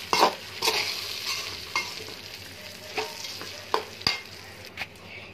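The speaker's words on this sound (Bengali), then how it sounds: "এই যে মরিচগুলো এখানে দিয়ে দিছি, এখন এগুলো আমি নেড়ে দিব ভালো করে" Chillies being stirred into hilsa pulao in a frying pan: a soft sizzle runs throughout, broken by repeated sharp scrapes and knocks of a spoon against the pan at an uneven rhythm.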